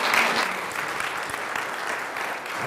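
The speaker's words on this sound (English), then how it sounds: "Give them a round of applause." A church congregation gives a round of applause, a dense, steady wash of many hands clapping at once, loud and continuous from start to finish.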